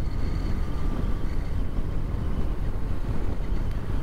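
A 2007 BMW R1200R twin-cylinder motorcycle accelerating onto a motorway slip road, its low engine drone buried under heavy, constant wind buffeting on the microphone, with no voices.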